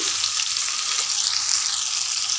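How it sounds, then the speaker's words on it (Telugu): Okra fries in hot oil in a pan, producing a loud, continuous hiss and sizzle close by for a couple of seconds with no voices, ending abruptly. "ఒక రెండు మూడు నిమిషాలు వేపుకుంటే సరిపోతుంది"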